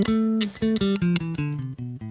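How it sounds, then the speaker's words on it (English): Bass guitar running through the Aeolian mode, the natural minor scale: about nine plucked low notes played one after another at a steady pace, each clear and ringing, with no voices. "the Aeolian mode, which sounds like this."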